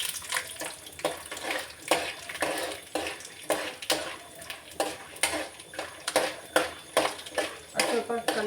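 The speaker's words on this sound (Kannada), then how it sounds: "ಇದಕ್ಕೆ ನಾನೀಗ ಕಡಲೆಬೇಳೆ ಹಾಗೆ ಉದ್ದಿನಬೇಳೆನ ಹಾಕೋತಾ ಇದ್ದೀನಿ." Chana dal and urad dal roast in a pan for mango chitranna, giving soft crackling and a spatula stirring and scraping in an uneven rhythm under a faint background hiss.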